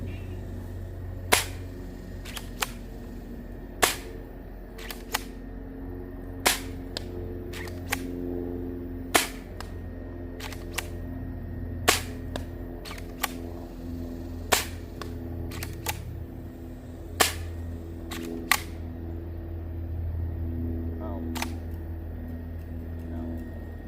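Dry firing a MisplacedMoose 31K-L Nerf blaster: sharp, hollow snaps repeat every second or two over a low steady hum. Each click is distinct and close, and there are about a dozen across the stretch, with no voices.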